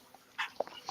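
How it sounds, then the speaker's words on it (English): A dog gives a few soft, brief whimpers and small yips close by, quiet and intermittent, with no talking over them. "Aw, that's a sweet dog."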